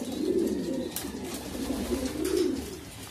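Racing pigeons coo in low, throaty rolling bursts, two swelling phrases close by, with faint rustling and background noise.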